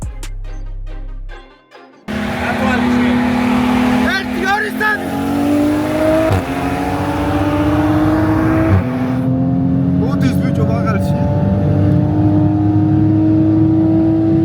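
A car engine rises in pitch through repeated throttle revs while driving on petrol in a street race among a Supra, a 340 and a Crown. The sound is loud and close, with someone talking over it.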